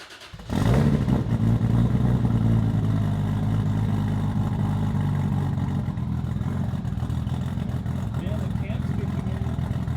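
A Toyota Supra engine under a monster build cranks and catches, then settles into a loud, steady running idle with a deep throbbing drone, close up and continuous after the start.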